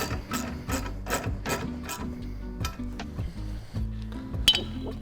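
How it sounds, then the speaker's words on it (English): A half-inch socket wrench tightens fittings on a metal raft frame, giving a close run of rapid ratcheting clicks in bursts with short pauses and a few metallic clinks. "this is where you break out your 1/2-inch open-end wrench and socket. Makes it a little quicker to use the socket"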